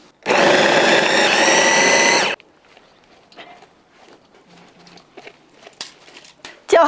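An electric blender whirs loudly for about two seconds, chopping fresh chili peppers with water, then cuts off, leaving quiet kitchen clatter and small handling noises.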